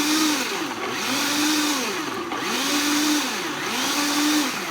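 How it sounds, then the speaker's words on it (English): A Vitamix blender churns raw cacao butter and coconut oil, its loud, close motor whine rising and falling in a repeating cycle without pause. "I'm using a Vitamix, which blends things really nice and easy."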